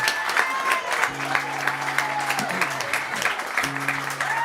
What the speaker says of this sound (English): Give a nice big round of applause to Ryan Leddick.